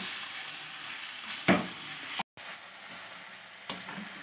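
Chicken pieces fry over a high flame for jalfrezi, giving a steady close sizzle with a brief louder burst partway through and a short drop to silence.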